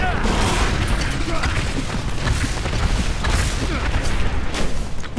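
Grenades burst in Diablo III combat, a dense, continuous barrage of loud blasts and crackling impacts layered over busy battle noise, with no clear pause across the stretch.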